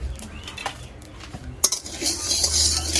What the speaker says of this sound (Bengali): এখন অনবরত নাড়িয়ে ছাড়িয়ে খুব সুন্দর করে চাল ভেজে নিব